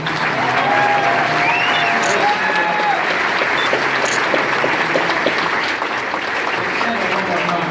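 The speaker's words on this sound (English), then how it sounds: "Can I get a round of applause for fourth generation?" Sustained crowd applause fills a political Q&A event in Henderson, Nevada, held for Mike Pence on Donald Trump's behalf; steady, dense clapping continues at an even level throughout, with a few brief cheers or whistles rising above it.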